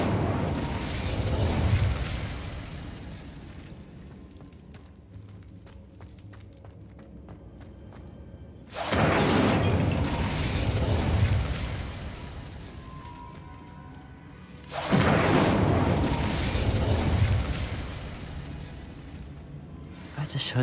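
The Incendio fire spell in Hogwarts Legacy goes off three times as loud, roaring whooshing bursts, each a few seconds long. Quieter game ambience fills the gaps between them.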